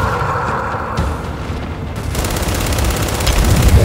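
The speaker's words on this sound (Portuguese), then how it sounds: "Lançando fragmentação!" A frag grenade goes off in Gears 5, a heavy boom that swells into a dense, sustained rumble layered with rapid gunfire crackle.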